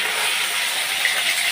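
Fish fries in a pan, giving off a steady, bright sizzling hiss that stays constant and fairly loud throughout, with no speech.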